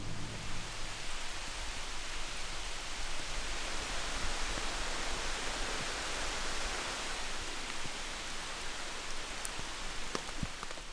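Rain falls steadily on a wilderness island campsite in Michigan, a dense, even patter with occasional sharper drops close by, continuing without a break and with no voices.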